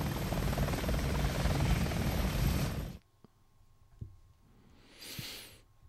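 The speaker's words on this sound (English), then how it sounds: "Evil helicopter." An enemy helicopter in the Shinobi video game roars loudly with dense rotor noise for about three seconds, then cuts out abruptly, leaving a few faint clicks and a brief whooshing game effect.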